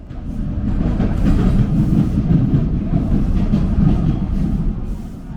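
A Toronto subway train crosses a two-level bridge, running on the lower deck beneath a highway, making a steady, close, loud rumble of wheels and rails with no voices.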